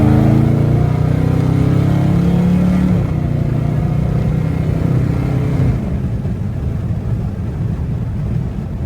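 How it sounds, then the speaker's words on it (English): A Dodge Charger Hellcat widebody pulls in fourth gear, its engine a loud, steady, deep drone heard from inside the cabin with the windows slightly down, easing off a little toward the end. "Drop it down to fourth again. And give it a little pull."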